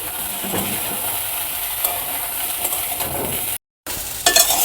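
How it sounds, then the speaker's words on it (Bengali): Drumstick stalks frying lightly in a pan, with a steady broadband sizzle and occasional stirring scrapes throughout, broken by a brief silent gap near the end before the sizzle returns slightly louder. "জাস্ট হালকা ভেজে নেব যাতে ওর সবুজ গন্ধটা চলে যায়।"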